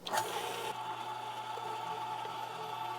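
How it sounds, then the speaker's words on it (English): Electric meat grinder pushing cold meat through a small die for a fine grind, a steady droning mechanical hum with a brief louder burst at the start, then continuous whirring with no voices. "now that our meat is nice and cold, through the grinder we go"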